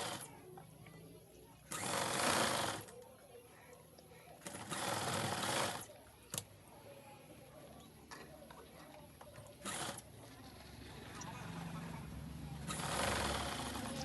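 Sewing machine stitching a blouse lining, several short close bursts of rapid whirring separated by pauses, with someone talking quietly between them.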